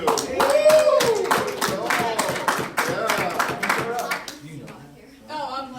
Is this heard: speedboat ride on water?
no